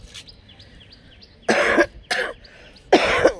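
Three harsh, close coughs in a row from a lingering cough, the last two spaced apart, on a rooftop in the morning with faint bird chirps in the quiet background.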